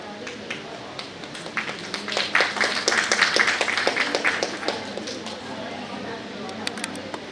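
An audience at a medical education conference session on interactive whiteboards claps in a dense, swelling burst that peaks midway and fades, with a voice speaking faintly underneath.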